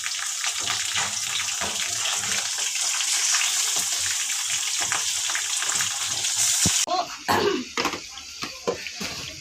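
Chicken frying in a pan with green chillies and curry leaves for a chicken curry: a steady, loud, close sizzle, followed by stirring and scraping near the end.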